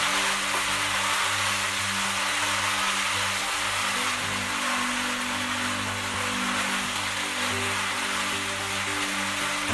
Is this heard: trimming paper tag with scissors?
no